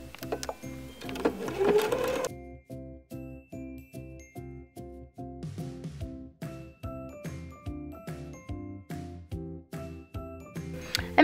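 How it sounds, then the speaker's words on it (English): Sewing machine stitching a hand-rolled edge on a pocket square, running in a steady fast rhythm of regular stitch pulses with brief pauses, close and clear with no talking. "I'm just gonna roll it as I sew it with my hands."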